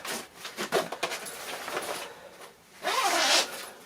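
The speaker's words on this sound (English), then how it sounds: "Just zip them up." Zipper on a body bag being pulled closed, a series of raspy scraping strokes followed by one longer, louder pull near the end.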